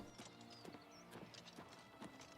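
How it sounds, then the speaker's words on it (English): Horse hooves clip-clop in a steady walking rhythm in the Oblivion Remastered video game, with five or six evenly spaced, moderately close hoof strikes and no talking. "Is that the guard on the horse?"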